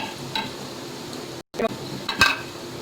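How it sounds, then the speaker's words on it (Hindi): Spice masala for mutton paaye going into hot oil in a pan, a light sizzle with clinks and scrapes of a spoon against the metal, one brief drop-out partway through, no talk. "पैन में मैंने ऑयल डाल लिया है। अब मैं ये सारी चीज़ें जो वगैरह मसाले थे वो मैं"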